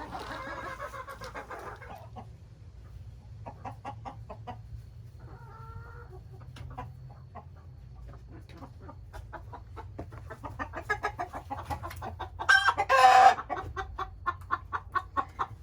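Chickens cluck in steady low murmurs and short rhythmic bursts from a nesting box before laying eggs, building to a louder squawk near the end, all close by with a faint hum beneath.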